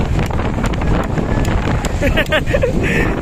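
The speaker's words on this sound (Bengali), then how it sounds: "কি ভয়াবহ ঝড়! আপনারা যদি বিশ্বাস করেন, এত ঝড় আর এত বাতাস।" Strong storm wind roars steadily across the microphone over the open water of the Padma River, with faint warbling sounds in the background.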